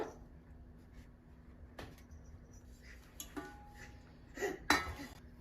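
A few sharp metallic taps and clinks against an upturned hollow metal pot to release Mysore pak, quiet and close, with a louder double knock near the end.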